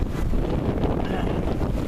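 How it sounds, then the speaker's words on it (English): Strong 22-knot wind gusts on a sailboat buffeting the microphone in a continuous roaring rush, loud and blustery throughout. "22 knot wind gusts all of a sudden"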